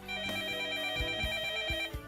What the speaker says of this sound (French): Dans sa poche, son téléphone se met à sonner.